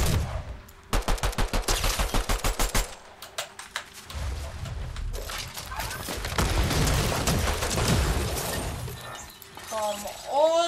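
Rapid bursts of video-game gunfire in Fortnite with unlimited ammo: a fast run of sharp repeated shots, then a denser stretch of blasts and clatter mixed with voices, all loud and close.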